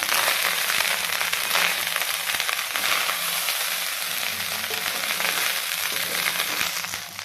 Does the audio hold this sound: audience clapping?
no